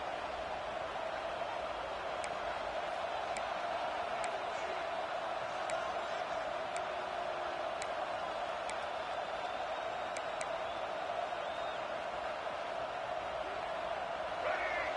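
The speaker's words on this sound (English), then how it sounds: "The roar of the crowd trying to fuel this defense to keep them pinned in their own end" A crowd at a football game roars in a steady, distant wash of noise that holds for the whole stretch, with occasional faint sharp clicks.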